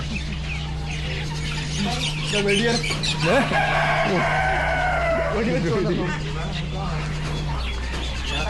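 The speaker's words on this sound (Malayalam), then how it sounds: "നേരം വെളുത്തിട്ടാ കോഴി കൂവുണ്ട്" A rooster crows in the early morning somewhere in Ho Chi Minh City, Vietnam, two rising calls standing out clearly against a steady background hum, with clucking around it.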